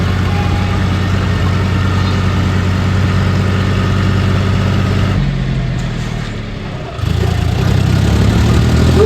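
A tractor engine idles steadily with a loud low rumble and harmonic drone, briefly dipping and softening before roaring back up, with no talk over it.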